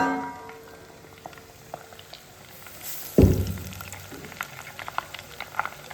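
Homemade ghee from buffalo milk simmers in a pan, giving a steady low crackle of small bubbles with a soft thud midway and sporadic sharper pops afterward.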